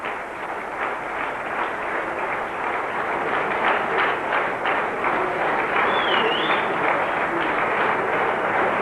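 A large stadium crowd at the 1990 AustralAsia Cup cricket final in Sharjah applauds the teams walking out, a dense, continuous roar of clapping and cheering from a distance with no talk over it.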